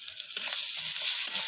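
Ginger-garlic paste hits hot oil with a steady, bright sizzle, close and continuous, with a few soft scraping touches underneath while meat cooks.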